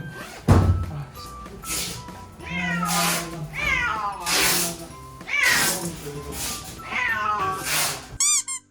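An upset cat on a house move meows loudly and repeatedly up close, about seven drawn-out, rising wails in a row, with a short thump near the start and a clatter at the end.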